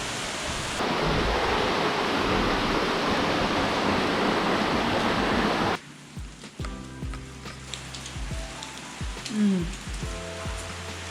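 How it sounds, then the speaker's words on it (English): Heavy monsoon rain pours in Kerala as a dense, loud, steady roar, then drops off sharply to lighter dripping and splashing with scattered nearby knocks and thumps. "Oh, it started raining more again."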